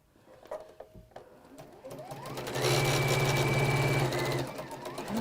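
A sewing machine stitching a waistband seam with a half-inch seam allowance starts with a few slow clicks, then speeds into a loud, steady, close mechanical whir that eases off slightly at the end.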